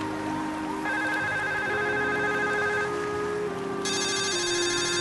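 A telephone rings with electronic tones held steady over a constant background hum, the ringing tone shifting pitch partway through and carrying on with no voices.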